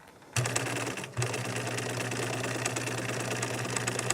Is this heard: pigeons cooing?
no